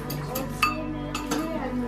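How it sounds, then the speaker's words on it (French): Dishes clink and knock together a few times at close range as they are put away in a cupboard at a school, sharp ringing taps with quiet pauses between them. "Je donne la vaisselle et moi je la range dans le placard."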